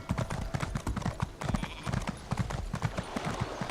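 Horse hooves clip-clop in the video game Elder Scrolls Online, a fast, steady galloping rhythm of close, loud hoofbeats throughout.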